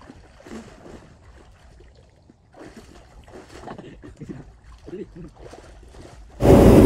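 Water splashes and sloshes softly as people ease in to bathe, with intermittent talk over the gentle movement and a sudden loud burst of noise at the end.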